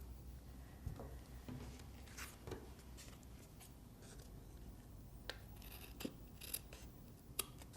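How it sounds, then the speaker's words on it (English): Scissors make quiet, close snips and slicing rasps while trimming fabric along the edges of a handmade Christmas card, with soft handling rustles between the cuts. "I'm now going to trim along the sides with a pair of scissors, not a craft knife, because the craft knife will drag the fabric"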